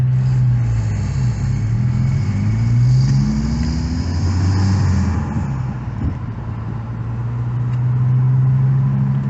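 A Honda Civic Type R engine with an aftermarket intake drones loudly and close, its pitch climbing as it revs with a breathy intake roar, then settling into a steady hum.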